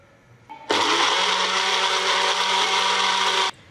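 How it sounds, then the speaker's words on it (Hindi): A blender whirs loudly and steadily for about three seconds as it purees coriander and mint into chutney, starting and stopping abruptly, close up with no voices. "धनिया ऐड करेंगे, पुदीना ऐड करेंगे। अब इसे ब्लेंड कर लेंगे।"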